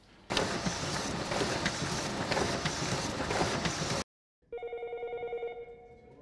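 An office telephone rings at a cricket club, a short run of bright, steady electronic ringing tones after a pause in busy broadband background noise.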